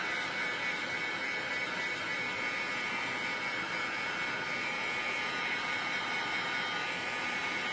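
A steady, loud blowing whoosh of a heat tool drying stencil ink, running continuously, even and unbroken throughout.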